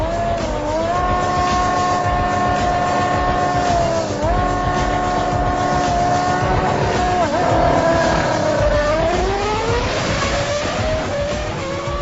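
A Formula 1 car and a MotoGP bike drag race over a quarter mile, engines screaming loudly and continuously with rising and shifting pitch as they accelerate, close and dominant.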